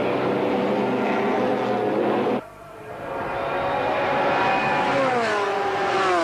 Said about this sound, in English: Down the fast straight here. 195 miles an hour from the McLarens and the Ferrari.